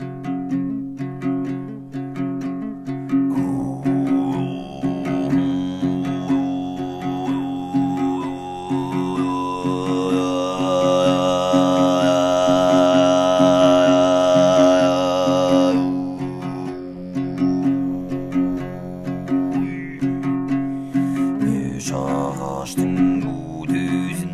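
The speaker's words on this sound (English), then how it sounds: "also practice a form of throat singing called Altai Kai." Altai Kai throat singing, the Altai epic-recitation style, holds a low steady drone with a whistling overtone melody rising and sliding above it, sustained and close with no talking.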